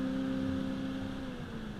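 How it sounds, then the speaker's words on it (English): Steady interior drone of a big block car engine while driving, a low throttle-body hum with tonal harmonics held evenly throughout, close and moderately loud with no talk. "It's got that nice deep big block throttle body sound."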